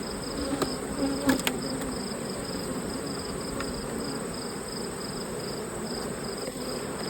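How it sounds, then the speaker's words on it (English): Honey bees buzz faintly and steadily inside a sparsely populated beehive honey super, a continuous low drone with a few brief close clicks and taps near the start. "We've got very few bees up here"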